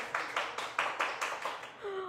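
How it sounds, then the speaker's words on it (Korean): A small group claps in a series of about eight rhythmic bursts, fairly quiet, ending with a brief tonal sound. "박수 소리가 커졌어요."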